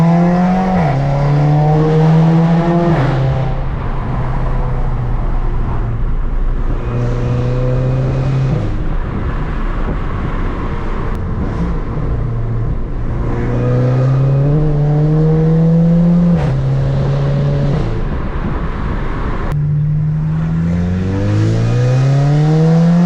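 A Volkswagen Golf GTI with a stage 2 tune pulls hard through the gears, its engine note rising in repeated sweeps and dropping at each shift, loud and close with no talking over it.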